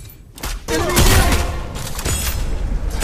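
Rapid gunfire bursts ring out in a mobile shooter game, a dense, loud fusillade of overlapping shots with booming thumps close by, lasting a few seconds.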